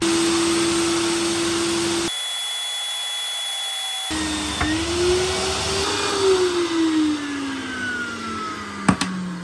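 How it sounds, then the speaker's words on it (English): A Vax 3-in-1 vacuum cleaner motor, wet-vacuuming water, drones steadily, cuts out briefly, then runs again with its pitch rising and falling as it labours, ending with a couple of sharp knocks. "now I'm going to vacuum up some water to wash out the hose and the bucket as well"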